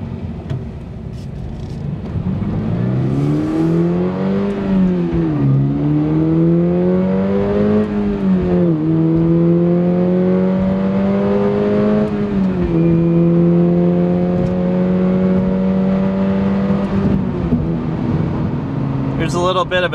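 A Toyota GR86 engine pulls hard through the gears on a road drive: a loud, close, rising drone that dips briefly at each upshift, three or four shifts in a row, then climbs again.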